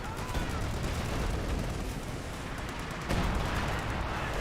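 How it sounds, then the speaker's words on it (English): Brumbar siege barrage in Company of Heroes 2, a dense, continuous rumble of explosions and shellfire that swells slightly near the end, with a voice faintly under it. "looks like Brumbar is going for a siege barrage"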